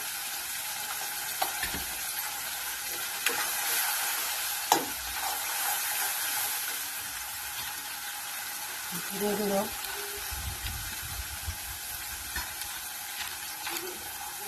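Spice paste with turmeric and salt frying in oil, a steady loud sizzle running throughout with occasional scraping stirs and clinks, while a voice speaks briefly over it.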